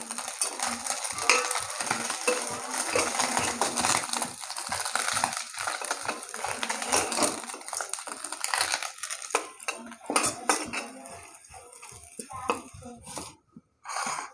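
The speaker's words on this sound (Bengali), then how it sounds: "মাছ দিয়ে ভাজা হয়ে গেছে এবার কড়া করে ভেজে নিয়েছি মাছ এবার তুলে নেবো" Small mourala fish fry crisp in a pan with a loud, continuous close sizzle and occasional scraping stirs. The hiss thins out and turns patchy toward the end.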